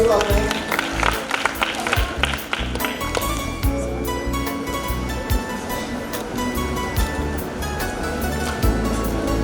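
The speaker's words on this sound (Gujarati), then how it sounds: "ખૂબ જ તાળીઓથી વધાવીશું આપણે." Applause from an audience at a school annual function, a dense, steady clatter of clapping mixed with music and hall noise, lasting the whole stretch without letup.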